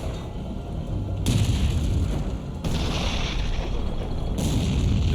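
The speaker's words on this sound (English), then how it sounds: "The sound of gunfire alerts a platoon of American M18 tank destroyers" Gunfire in a tank battle, heavy booming bursts and continuous rumbling blasts in abrupt loud sections, dense and close with no speech.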